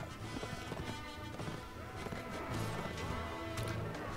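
Cavalry charges in Mount & Blade Warband in a dense rush of overlapping hoofbeats, clashing impacts and battle noise, sustained and busy throughout, with no speech over it.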